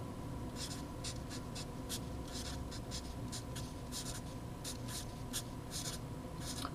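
Pen or marker strokes writing out math equations, a run of short scratchy bursts in an irregular rhythm over a faint steady room hum, quiet and close.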